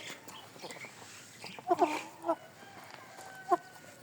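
Chickens and young chicks cluck quietly in a farmyard, with a few short clucks and chirps popping out over soft background noise.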